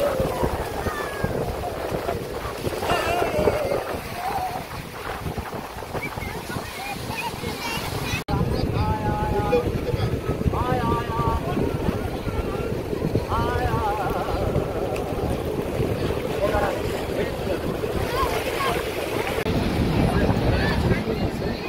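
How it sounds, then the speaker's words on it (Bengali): A trawler boat pulls away at the Digha estuary as wind buffets the microphone and water rushes around the hull. People talk throughout over the constant blustery noise. "ট্রলার ছাড়লো।"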